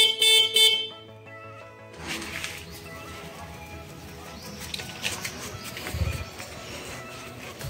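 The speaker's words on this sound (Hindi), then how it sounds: "जब मैं बाइक का हॉर्न बजाऊंगा तो कैसे भागता हुआ आएगा" A motorbike horn beeps loudly in a few quick bursts, then gives way to a steady rumble of engine and street noise.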